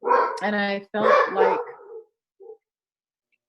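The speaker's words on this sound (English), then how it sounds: "that's my dog." A pet dog gives one or two short barks at close range, following a stretch of talking.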